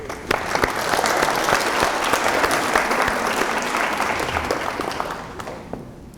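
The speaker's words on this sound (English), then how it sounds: "Let's have a round of applause for all of our new graduates." Applause for new graduates at a university commencement, a full steady round of clapping from many hands with scattered sharper claps, sustained for several seconds before thinning out at the close.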